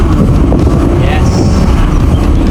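Wind buffets a microphone outdoors during a trip to Italy's car factories, a loud, constant low rumble filling the whole stretch.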